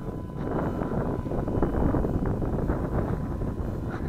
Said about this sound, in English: That wind's picking up too strong